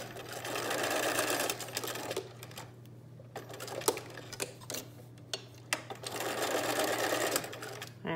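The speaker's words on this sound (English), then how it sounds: "So I'm going to back stitch right there." A sewing machine stitches a fabric face mask, back-stitching in bursts of rapid mechanical whirring. Short pauses break the stitching, and isolated ticks and clicks fall between the runs, all heard close up and loud.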